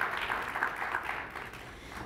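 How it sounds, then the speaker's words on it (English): Quiet, steady applause from an audience at the 2023 Concordia Annual Summit, a continuous soft patter lasting about two seconds without any speech. "Please give him a round of applause"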